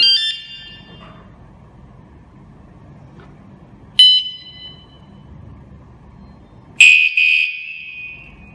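KS-SF22R vehicle security alarm giving three loud, shrill electronic chirps spaced a few seconds apart, the last one longer and harsher, with quiet hum between.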